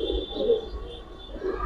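Domestic pigeons of Giribaz breeds coo softly in low, throaty murmurs that rise and fall under a faint background hum, near but not loud.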